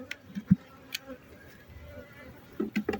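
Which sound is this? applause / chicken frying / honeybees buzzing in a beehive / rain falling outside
honeybees buzzing in a beehive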